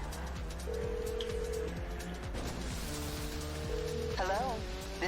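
A phone in GTA 5 Online places a call, with a steady dialing tone under a low droning game background and a brief rising electronic blip near the end, while a voice speaks over it.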